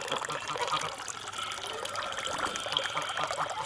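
Steady dribble of water running from a pipe in a gravity-fed water system, a continuous soft splashing flow with no pauses.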